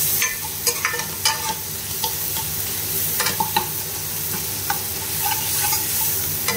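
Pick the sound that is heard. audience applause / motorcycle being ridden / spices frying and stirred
spices frying and stirred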